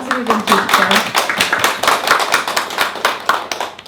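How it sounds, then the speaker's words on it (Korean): Audience applause at an exhibition opening talk, dense rapid clapping from a crowd filling the room, close and steady throughout, with a voice briefly audible at the start. "박수를 좀 주실까요?"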